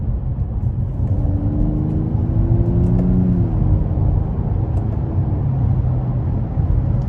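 A 2022 Nissan Maxima SR's engine and exhaust in sport mode hum steadily under acceleration. The note is a low, continuous drone with a gentle rise in pitch, heard from inside the cabin with no talk.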